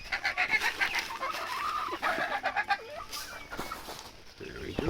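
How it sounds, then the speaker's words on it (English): Sebright hens cluck in a farmyard of young birds, a busy run of close, repeated soft clucks and short calls with a person's voice mixed in. "Those are sea bright hens."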